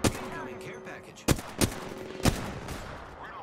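Gunfire in the video game Apex Legends: three sharp, loud shots spaced irregularly over steady game ambience, with a faint tonal hum in the background.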